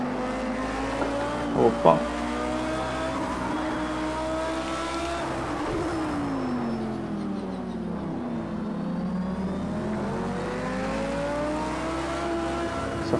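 Lamborghini Super Trofeo race car engine in the Project CARS 2 racing game at Algarve, a continuous high-pitched drone rising and falling through gear changes and corners, with a brief exclamation near the start.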